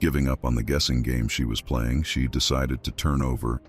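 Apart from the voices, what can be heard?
No everyday noise stands out behind the speech.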